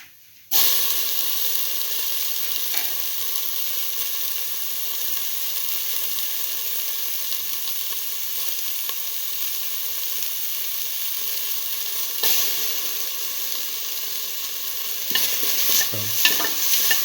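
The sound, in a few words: tomato pieces frying in pan with beef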